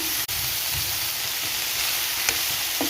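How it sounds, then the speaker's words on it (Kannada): Boiled beans and carrots stir-frying in hot oil give a steady, close sizzle with soft scraping stirs and a sharp clatter near the start, with no talking. "ಈಗ ಇದಕ್ಕೆ ತರಕಾರಿ ಹಾಕ್ಕೊತಿದ್ದೀನಿ, ಬೇಯಿಸಿರೋ ತರಕಾರಿ"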